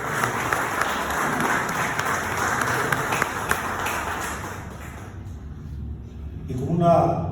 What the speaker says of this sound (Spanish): Fuertes aplausos para